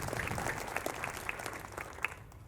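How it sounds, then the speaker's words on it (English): Audience applause at a municipal band's season-finale concert, a steady wash of many hands clapping that holds evenly through the stretch with a few sharper claps standing out. "would you just give a big round of applause for the set up and tear down crew, folks?"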